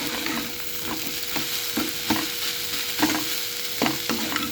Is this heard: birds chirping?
no